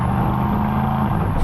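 An SUV engine, a Porsche Cayenne Turbo GT or Aston Martin DBX 707, roars steadily with deep exhaust rumble while accelerating, loud and close, holding a strong continuous drone throughout.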